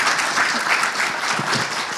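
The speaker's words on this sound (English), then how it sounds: "Can we get a round of applause for them?" An audience gives a steady round of applause at a trade panel event held with the World Trade Centre, dense clapping continuing evenly throughout.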